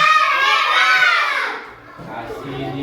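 A class group of children shouts a cheer chant in unison, loud and sustained at first, then fading before the voices rise again.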